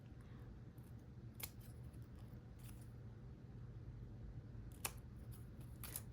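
Scissors trimming excess paper off a craft project, a few sharp, sparse snips against a quiet room background, with no talking.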